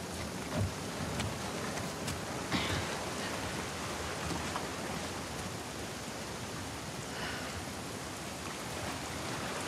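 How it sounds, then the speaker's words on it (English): Steady rain falls in a game set in Seattle, a dense, even wash of noise with a few faint louder drops, close and continuous throughout. "get out of the rain."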